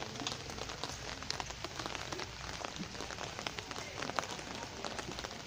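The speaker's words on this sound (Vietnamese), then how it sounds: "Em đang quay bị mưa đây" Steady rain patters on surfaces outdoors during beekeeping work with honeybee colonies, a dense continuous hiss of drops with scattered sharper ticks throughout, fairly close and even in loudness.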